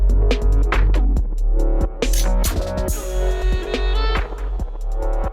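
Chevrolet Silverado pickup idling after a stop at a gas station, a steady low engine rumble running under clanking, rhythmic knocks and other busy noises, fairly loud throughout.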